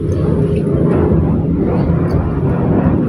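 An airplane passes directly overhead, a broad, loud roar that holds steady throughout, with faint voices in the background.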